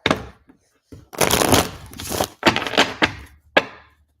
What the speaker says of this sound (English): let me get these in and shuffle